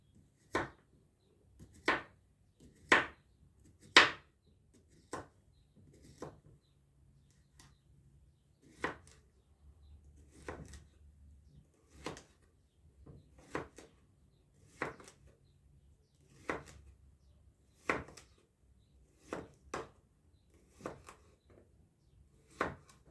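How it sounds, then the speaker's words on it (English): Knife chopping cucumber into small slices on a cutting board, about twenty crisp separate knocks at an irregular steady pace, close and distinct against quiet. "now that I'm done chopping my cucumber"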